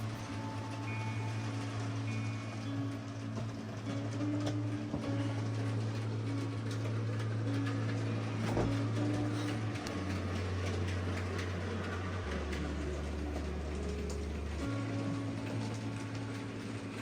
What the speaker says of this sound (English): there she goes with that coal train